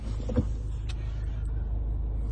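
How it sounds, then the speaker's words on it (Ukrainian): A 2011 Citroen Berlingo's 1.6-litre diesel engine idles with a steady, even low rumble, one brief click near the start. "Робота двигуна є рівною."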